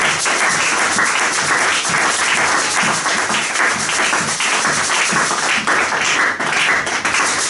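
A church congregation applauding loudly, with dense sustained clapping and cheering filling the room throughout.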